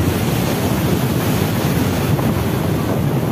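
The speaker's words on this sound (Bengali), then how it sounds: "তো অনেক ঢেউ" Sea waves wash onto a beach in Chennai, a steady roaring surf with wind buffeting the microphone and no clear voices.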